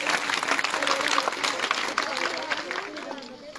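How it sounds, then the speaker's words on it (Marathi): Audience applause fills a hall at a religious gathering, broad steady clapping from many hands sustained throughout, fading slightly toward the end. "आपण सर्वांनी टाळ्या वाजवून त्यांचं अभिनंदन करायचं"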